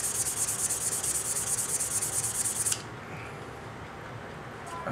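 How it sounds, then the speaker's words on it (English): A Glock 20 barrel being rubbed down with 220-grit sandpaper, a steady close, hissy scratching stroke that runs continuously for a few seconds, then stops abruptly, leaving quieter room noise. "I'm hitting it with 220 sandpaper."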